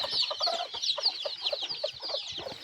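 Seven-day-old incubator-hatched native chicks in a cage on a farm peep continuously in shrill overlapping chirps, close and busy with no pauses.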